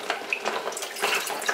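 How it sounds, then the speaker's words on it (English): Water poured into a container for a canning brine, a soft continuous trickling splash at low volume with no voices. "So I'm going to add 2 deciliters of water"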